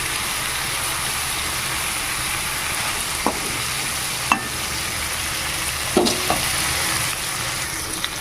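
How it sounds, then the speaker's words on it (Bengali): Chang fish frying in oil and stirred now and then, a steady close sizzle broken by a few sharp scrapes and clinks of the spatula. "নাড়া করে করে ভেজে নিলেই হবে"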